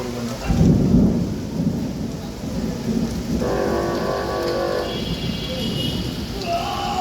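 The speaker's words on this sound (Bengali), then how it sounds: "অবশেষে দীর্ঘ তাপ প্রবাহ শেষে এই স্বস্তির বৃষ্টি" After a long heatwave, heavy rain pours down steadily onto nearby surfaces while thunder rumbles deep and long beneath it, and the downpour keeps going without a break.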